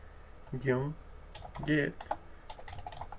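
Rapid clicking of a computer keyboard while a terminal command is typed on an Ubuntu desktop, with brief voiced sounds early on and a run of light keystrokes afterward.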